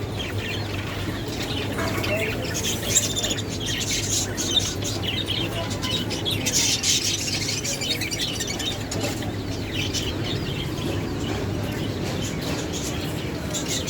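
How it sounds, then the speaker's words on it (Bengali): Many small birds chirp and tweet steadily inside a bird shop, a constant busy twittering with faint background hum and occasional rustles. "এখানে বিভিন্ন ধরনের কালেকশন আছে, বিভিন্ন ধরনের পাখি আছে।"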